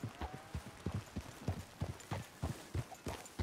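Horse hooves clip-clop in a steady walking rhythm in Red Dead Redemption 2, about a dozen evenly spaced, moderately close hoof strikes over light outdoor ambience.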